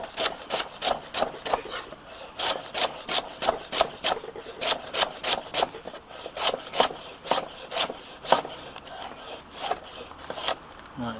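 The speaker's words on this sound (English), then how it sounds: "And now for the carrot, we are going to slice this at an angle," A knife slices a carrot thinly at an angle on a cutting board, making a quick, regular series of crisp chopping strokes, about two each second, close and distinct.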